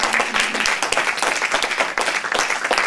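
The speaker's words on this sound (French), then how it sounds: "Applaudissez un peu, je vous remercie." A church congregation applauding during a sermon, dense, close clapping that stays loud and steady from start to finish.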